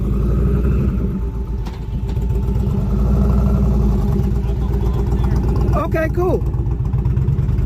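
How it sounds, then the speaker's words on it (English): A motorcycle drives past outside a sheriff station parking lot with a close, throbbing engine rumble that swells and then fades, and a brief spoken voice near the end. "Let me let this motorcycle around here."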